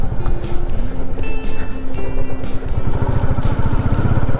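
Royal Enfield motorcycle riding along a road toward the Barvi Lake viewpoint, a steady, loud engine thump with rumbling low pulses and wind throughout, continuous and close.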